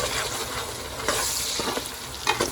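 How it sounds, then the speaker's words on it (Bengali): Onion, ginger and garlic fry in a pan with a close, steady sizzle, punctuated by a few scraping stirs of a spatula, with no talking. "পেঁয়াজের সাথে আদা রসুন তো ভালো করে ভাজা হয়ে যাবে"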